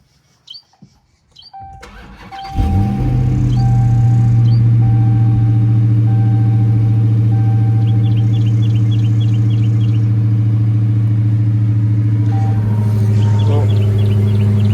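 A Dodge Hellcat Redeye's engine cranks and catches after a quiet moment. It settles into a loud, steady, deep idle, with faint beeps and chimes over it.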